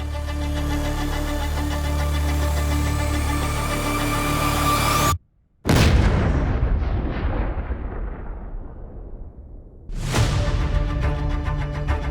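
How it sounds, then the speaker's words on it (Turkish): A sudden loud blast from a controlled bomb detonation breaks through steady rumbling, followed by a long fading roar of debris and echo before the background noise returns. "Kontrollü patlama!"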